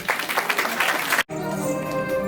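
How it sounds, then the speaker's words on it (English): Audience applause during a comic Krishna drama staged for Janmashtami, a dense burst of clapping that cuts off abruptly partway, followed by sustained music. "And everybody agreed by clapping."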